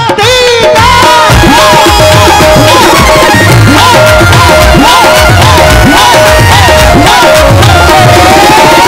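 Devotees at a Shri Shyam bhajan raising both hands and clapping together, a loud, dense wash of crowd noise and shouts with music sustained throughout.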